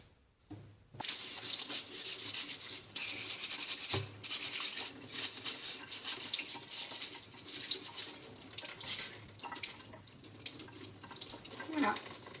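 New potatoes being scrubbed with a vegetable brush that has firmer and softer bristle sections, a steady wet scratching and brushing under running water at a sink, continuous and fairly close throughout.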